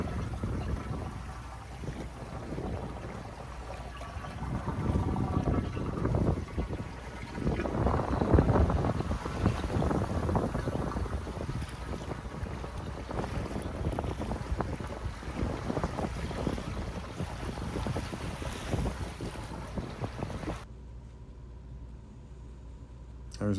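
A sailboat cruising under sail, heard from on board as steady wind buffeting the microphone with water rushing along the hull, rising and falling for a long stretch before dropping away abruptly near the end.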